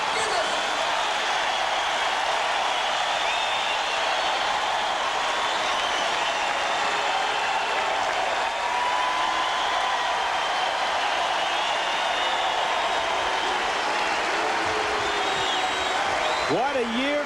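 Arena crowd at the 1995 NCAA wrestling final at 126 pounds, Iowa versus Penn State, roars and applauds in a sustained loud wash of cheering and clapping, with a commentator talking over it.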